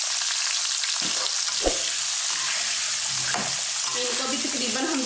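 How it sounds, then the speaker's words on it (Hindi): Potatoes frying in hot oil give a loud, continuous sizzle and hiss, broken by a few clunks and scrapes of stirring in the pan. "अब आलू इसके अंदर डाल देंगे"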